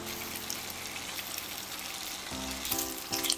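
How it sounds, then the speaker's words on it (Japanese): Bacon slices cut into bite-size pieces fry in a pan, a steady close sizzle running throughout with brief louder bursts near the end, with no talking. "ベーコンスライス2枚一口大に切ったもの、焼き色がつくまで炒めます。"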